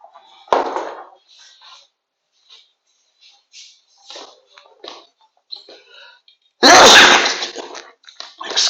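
Two sharp, loud sneezes burst out in a quiet room, one near the start and a stronger one later, separated by faint rustles and small noises.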